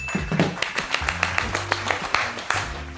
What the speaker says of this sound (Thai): ปรบมือให้ตัวเองครับ